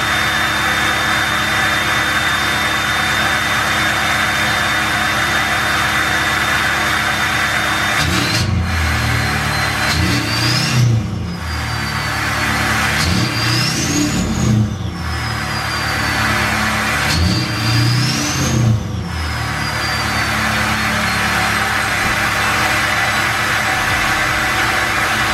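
A 2020 Duramax L5P pickup fitted with a Stealth 67 turbo idles with a loud turbo whistle, then revs three times in quick succession, each blip swelling into a jet-like rising spool whine before settling back to idle.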